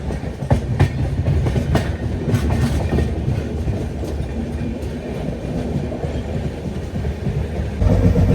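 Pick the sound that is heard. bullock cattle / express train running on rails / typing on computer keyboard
express train running on rails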